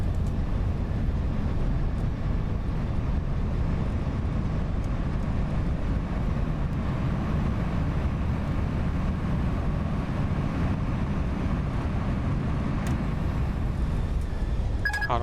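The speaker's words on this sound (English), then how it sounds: "Reversers." An Airbus A320 in the X-Plane 11 flight simulator rolling out after landing with thrust reversers deployed, a steady loud broadband engine roar that holds evenly throughout.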